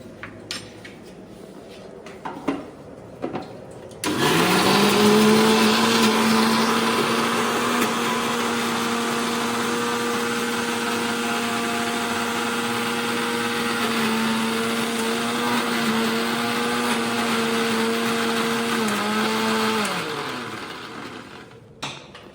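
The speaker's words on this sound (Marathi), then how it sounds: "ही पेस्ट आणखीन बारीक करून घ्यायची आहे मिक्सरमध्ये." A mixer grinder whirs loudly and steadily for about fifteen seconds, grinding a masala paste with added water for a cauliflower recipe, after a few faint clicks and knocks, with no voices.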